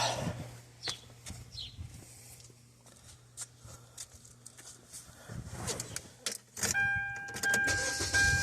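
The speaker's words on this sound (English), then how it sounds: "and we'll start the car back up." A car is started in preparation for adding refrigerant with a vacuum pump and manifold gauge set: faint clicks and key jangling, then the engine cranks and catches near the end into a steady idle.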